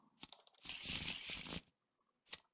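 Board game cards for Middara are shuffled by hand on a table, a burst of crisp riffling and rustling followed by a few short, soft taps, close and quiet with no talk.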